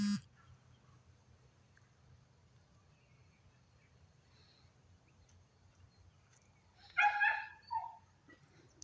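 Husky dogs let out a short burst of barking and yelping near the end, moderately close, after several seconds of quiet low background hum.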